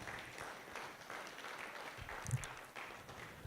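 Audience applause at a dinner and award night, a soft, continuous patter of many hands clapping in a large room, fairly distant and even throughout.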